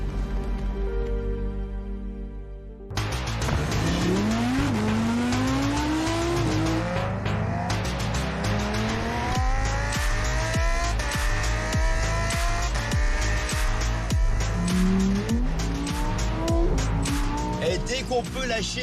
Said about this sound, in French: Et dès qu'on peut lâcher la bride du V10, et ben voilà, c'est le pied. Franchement, ça sonne, c'est démentiel